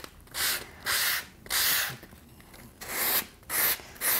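Hand sanding painted wooden furniture for a distressed shabby chic finish: about six rhythmic rasping strokes, each half a second or so with short pauses, close and moderately loud with no talking.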